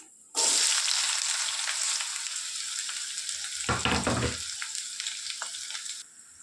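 Cumin seeds and onions hit hot oil in a kadai, setting off a loud, steady sizzle that starts abruptly and holds for several seconds, with a brief rattling stir partway through before it cuts off.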